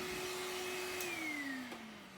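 A Numatic Henry cordless HVB160-2 vacuum cleaner runs with a steady motor whine that drops slightly in pitch as it winds down, close and alone.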